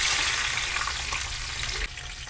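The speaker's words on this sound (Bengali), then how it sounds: "এরপর করলাগুলো ভেজে নিচ্ছি।" Bitter gourd pieces fry in hot oil with a steady, dense, close sizzle that drops a little in level near the end, with no voices.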